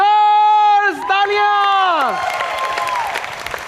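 A studio audience on a talk show breaks into applause and cheering, which swells after a sung line ends and carries on as a steady, loud burst of clapping.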